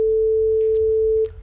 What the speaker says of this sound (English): single pure frequencies in case of a sine wave